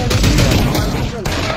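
Rapid bursts of gunfire are shot into the air in the VR shooter Pavlov VR, loud and close, a dense volley of overlapping shots with excited shouting mixed in.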